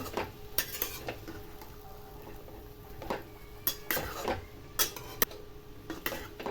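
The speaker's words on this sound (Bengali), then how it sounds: "আবারও 3-4 মিনিট নেড়ে চেড়ে ভাজা করে নেব আমি" Mixed vegetables with a little potato being stirred and fried in a pan, with intermittent scraping and clinks of the spatula against metal over a faint steady sizzle, close by and without talk.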